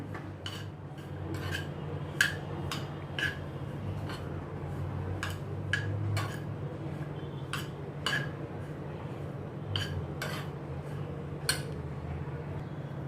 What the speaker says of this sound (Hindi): अभी इनको अच्छी तरह से मैं मिक्स करती हूँ।